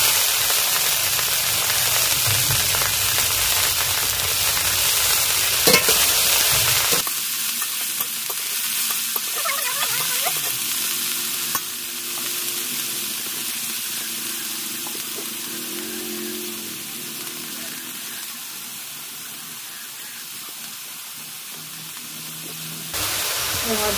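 Cauliflower frying in a pan with onion and chili, a bright, dense sizzle that surges as the pieces go in and then settles into a steady crackle with occasional stirring, close and unaccompanied by talk.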